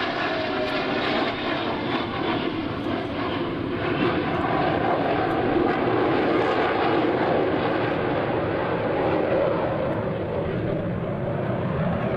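US Navy Blue Angels jets fly over the flight line at the 2003 Dayton airshow, a loud sustained roar of jet engines filling the whole stretch without letting up.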